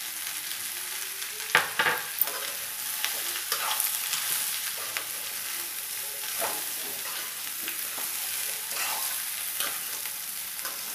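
Spiny gourd (aagakarakaya) curry with turmeric stirred in a pan: a steady bright sizzling hiss throughout, broken by irregular scraping strokes of the spoon, close and moderately loud, with no voices.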